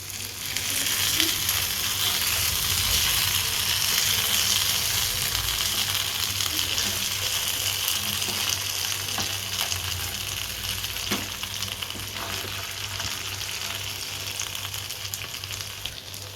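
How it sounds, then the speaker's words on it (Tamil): Masala-coated whole fish frying in a pan on low to medium flame after being flipped, a steady, dense hiss of oil running without a break at close range, with occasional faint clinks and crackles rising above it. "பின் சைடையும் நல்லா லோ டு மீடியம் ஃப்ளேமில் வச்சு நல்லா பொறிச்சு எடுத்துக்கலாம்"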